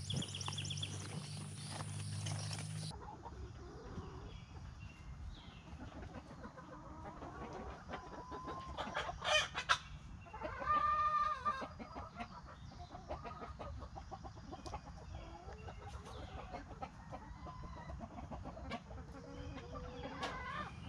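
Chickens clucking around a chicken coop, with soft scattered clucks and a brief louder crowing rooster midway, fairly faint against quiet outdoor background.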